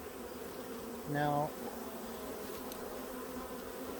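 Honeybees hum around an open hive during a late-season inspection, a steady close buzz under which a voice briefly speaks.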